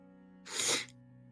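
A single sharp sneeze bursts out close by against a quiet background with a faint steady hum, rising quickly and fading within about half a second.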